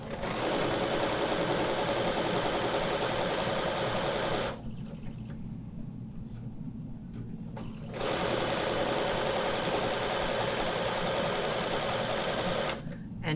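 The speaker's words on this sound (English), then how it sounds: "And I'm going to sew a 1/4 inch seam." A sewing machine stitches a quarter inch seam joining quilt blocks, running in a fast steady whir, pausing for about three seconds, then running again before a brief stop near the end, close with no talking.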